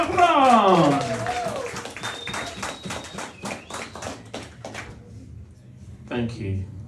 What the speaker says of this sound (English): Everyone give him a huge round of applause.